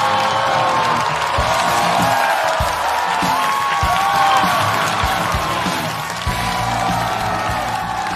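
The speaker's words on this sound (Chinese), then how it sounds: "掌声有请崔医生" Studio audience at a comedy stand-up show claps and cheers to welcome a doctor on stage, a busy mix of clapping and crowd noise with scattered whoops and some thuds.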